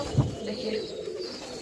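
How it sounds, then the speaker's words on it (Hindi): Male high flyer pigeon cooing beside its chicks in a loft box, a single soft low coo near the start and then quieter rustling and faint background murmur, with a brief spoken word. "ये हमारे ये मेल कबूतर है जो अपने बच्चे को दाना भी खिला रहा है"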